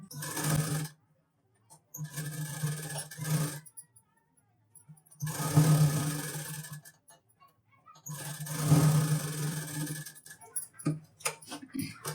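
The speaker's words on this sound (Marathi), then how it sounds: "तर इथे आपलं गोल गळ्याला शिलाई करून झालेलं आहे" A sewing machine stitches the round neckline of a blouse in three sustained runs of rapid humming and clattering, close up, with short pauses between runs and light ticks and handling after the last.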